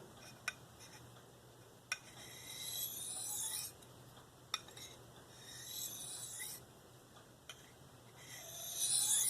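A D2 steel knife edge is drawn across a Spyderco medium bench stone in light, alternating edge-leading passes, giving soft raspy scraping strokes with sharp clicks between them, faint and close.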